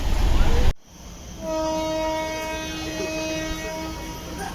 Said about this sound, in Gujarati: હોર્ન વાગી ગયો છે